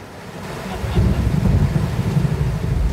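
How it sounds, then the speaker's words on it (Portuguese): Thunder during a heavy morning rainstorm: a deep, loud rumble that swells after the first second and rolls on steadily, with wind-like buffeting noise throughout and no clear talking. "a população ficou assustada com os raios e trovões de hoje cedo"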